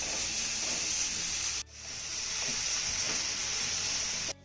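Chopped onion sautéing in masala paste in a pan, cooking toward light golden for a yogurt-based cluster-bean curry; a close, steady sizzling hiss that briefly dips twice, with no talking.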